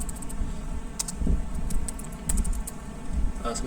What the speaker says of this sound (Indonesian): kita hapus lalu kita coba ketik